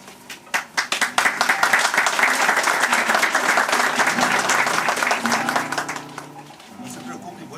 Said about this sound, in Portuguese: Não vamos gastar muita mão aí aplaudindo, porque a noite é comprida.